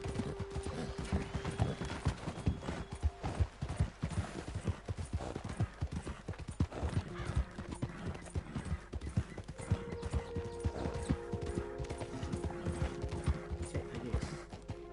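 Horse hooves clip-clop steadily in Red Dead Redemption, a continuous rhythmic trotting that sits close and fairly loud, with brief whinny-like tones and other game sounds mixed in.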